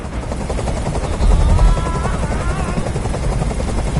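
A helicopter in Detroit: Become Human drones with a loud, continuous rotor thrum and rumble, the low pulsing swelling briefly before holding steady, with no voices over it.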